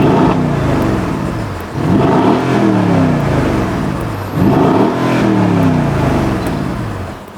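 A Mercedes-AMG GLE 63 S set to individual drive mode revs loudly and close by, in three rising surges that each climb and fall back, with a steady engine whir between the pushes and no talking.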